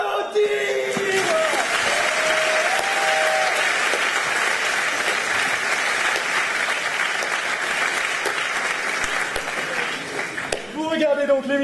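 A studio audience at a television word-game show claps loudly and continuously for a winning contestant, with a host's voice over the start and end of the applause.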